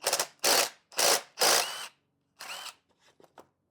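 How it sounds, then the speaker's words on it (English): Two 13 mm nuts on a chainsaw bar being loosened with a quick power driver: four loud, close bursts of whirring, followed by a shorter burst and several faint clicks, with no talk. "these two nuts are about 13 millimeters, so I'm going to loosen these up"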